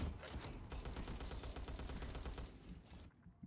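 Rapid pistol fire in a Black Ops 3 custom zombies map set in a cabin, a dense run of sharp repeated shots for about three seconds before cutting off to near silence.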